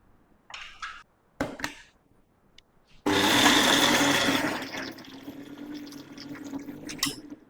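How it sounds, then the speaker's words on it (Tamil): A kitchen mixer grinder churning chillies, shallots, ginger and turmeric with a little water for Kerala fish curry: a few short bursts first, then a loud, continuous whirring grind that eases slightly toward the end, close by. "ஒரளவுக்கு தான் அரைக்க போகிறேன்."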